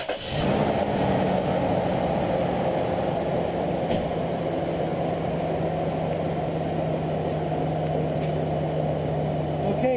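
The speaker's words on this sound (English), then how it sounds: "Okay, engine is running." A car engine fires up after alternator brush work and settles straight into a steady, even idle, a close, constant hum that runs unchanged to the end.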